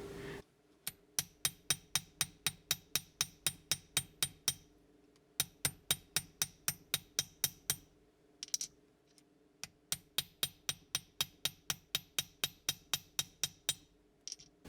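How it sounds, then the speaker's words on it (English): A silver bracelet is hammered on an anvil in steady runs of sharp, ringing metallic strikes, about two or three per second, with short pauses between bursts; close and clear, with no talking. "I'm going to smash this on the anvil a couple times."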